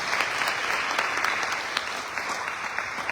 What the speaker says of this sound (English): a louder round of applause for our sound engineer, Akash.